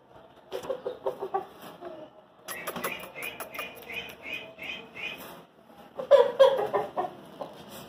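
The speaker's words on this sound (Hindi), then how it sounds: "एक मुर्गा है" Rooster of the Asel fighting breed, kept with hens and chicks, clucks in rapid rhythmic bursts with a steady run of calls in the middle and a louder flurry near the end, close by and unaccompanied by speech.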